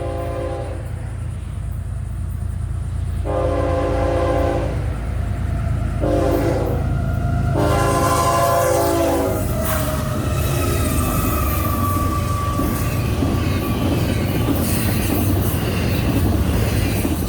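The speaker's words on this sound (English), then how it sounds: "Here is FEC train 204, intermodal and manifest headed for Jacksonville." FEC freight train 204, an intermodal and manifest train of about 8,000 feet led by two GEVO locomotives, sounds several loud horn blasts in a row and then rumbles past up close, with a steady roar of cars and wheels.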